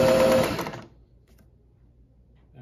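A 1950s Singer 403A sewing machine stitches through two layers of denim in a fast, steady whirring run lasting under a second, then stops abruptly, leaving near silence.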